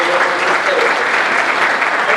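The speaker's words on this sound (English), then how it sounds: "Give him a huge round of applause." Loud, dense applause from a magic show audience greeting a volunteer called up on stage, a full continuous roar of clapping throughout.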